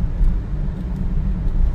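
A car drives along the Mumbai-Goa highway between Devgad and Lanja in the rainy season, with a steady, loud, close engine and road rumble that continues throughout, with no one talking.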